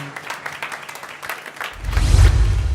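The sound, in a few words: audience applause for a singer at a talent show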